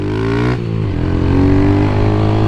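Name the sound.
Honda Fan 150 motorcycle engine revving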